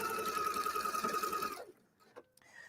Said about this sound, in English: I'm just going to top stitch.